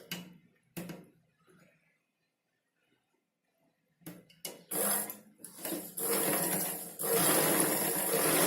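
Sewing machine stitching a line of back neck threads on a blouse top, short bursts of whirring at first, then a pause, then longer steady runs of close, fairly loud mechanical rattling.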